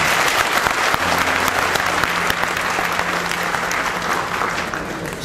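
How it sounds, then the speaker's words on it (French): A crowd at a Malian public address breaks into sustained, dense applause that holds steady for several seconds before easing off slightly at the end. "je vous demande de vous applaudir"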